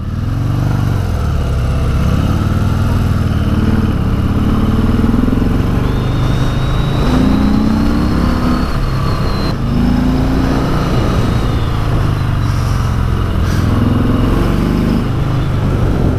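A sport touring motorcycle is ridden at night on a winding road near Lake Arrowhead, California, with a constant loud engine drone and heavy wind rush, the engine note rising and falling through corners.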